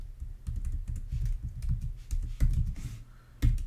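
Keys clatter on a computer keyboard in quick irregular bursts of clicks, close up and fairly loud, with a few heavier keystrokes standing out and no one talking.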